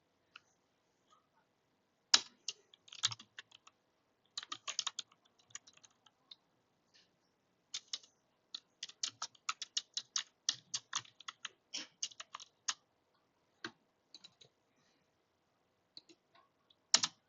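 Python code being typed on a computer keyboard, quiet close-up key clicks in irregular bursts and runs with short pauses between them, with no voices.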